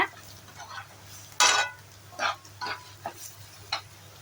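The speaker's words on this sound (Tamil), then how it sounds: "இப்போ இது எல்லாமே நல்லா எண்ணெயில் வதங்கிடணும்." Ginger and garlic sautéing in oil in a pan for a mutton pepper fry, with sporadic scraping stirs of a spoon against the pan over a faint low hum, close and moderately quiet.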